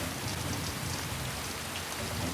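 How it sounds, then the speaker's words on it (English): Heavy, driving monsoon rain pours down in a dense, steady roar that fills the space without a break, loud and close, with no voices. "The driving rains,"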